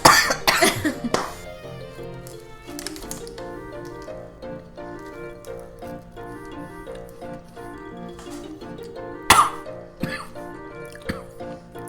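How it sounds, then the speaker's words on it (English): A person coughs sharply a few times while tasting a fruity caramel Finnish snack, with bursts near the start and again later, over steady background music. "I'm just coughing."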